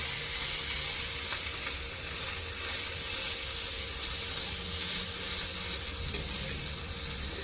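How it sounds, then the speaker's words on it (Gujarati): Mini uttapam fries in butter on a hot pan, a constant close sizzle and hiss that runs evenly throughout without any voices. "નીચેની સાઈડ જો એકદમ ક્રિસ્પી થઈ ગયું છે તો હું ઉપર થોડું હજુ બટર નાખી લઈશું"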